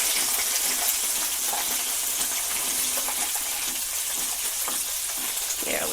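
King oyster mushrooms sizzle and fry steadily in a pan, a close, continuous crackling hiss with no talk over it.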